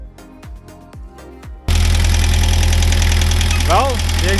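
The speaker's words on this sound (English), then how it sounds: "Well, the exhaust is fixed and it sounds a lot nicer now. Now you got a muffler again" An engine with a newly repaired exhaust and muffler starts after a few short cranking bursts and settles into a loud, steady idle with a deep, even rumble and no rattle.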